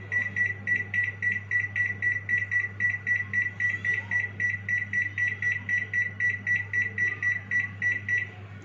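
Repeated electronic beeps from a convection microwave oven's buttons as the timer is set, a steady run of about thirty short even tones close up over a low constant hum.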